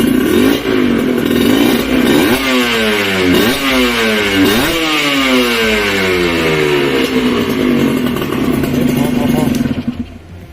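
A Kawasaki KR 150 two-stroke motorcycle engine revs hard and close, its pitch climbing and falling in several quick sweeping bursts toward very high rpm before settling into a sustained high buzz that cuts off at the end; voices talk over it.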